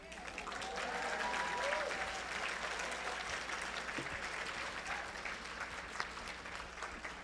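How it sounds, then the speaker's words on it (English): Faint, steady applause fills a community luncheon hall, a soft wash of many hands clapping continuously for several seconds with a little background talk. "Another round of applause here"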